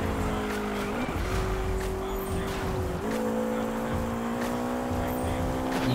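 A McLaren race car in Need for Speed holds a steady engine drone with rising gear-shift steps, layered with sustained tire squeal and skidding, loud and continuous throughout.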